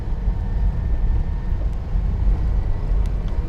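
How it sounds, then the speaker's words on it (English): Constant low rumble of road noise heard from inside a moving car on a rough country drive, a dense steady roar without a break and no talking. "it's an awful lot of road noise"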